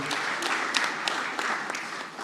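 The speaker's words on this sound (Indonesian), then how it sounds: "kita berikan tepuk tangan yang meriah bagi Ibu Ketua Umum" Crowd applause at an Indonesian political party event announcing a vice-presidential candidate, steady clapping from a large audience throughout, fairly loud and continuous.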